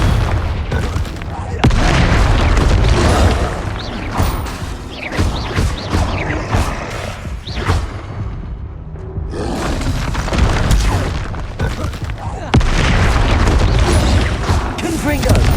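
Heavy booming blasts of the Confringo explosive spell in the video game Hogwarts Legacy, loud and frequent, mixed with crashing impacts and a voice shouting over the battle.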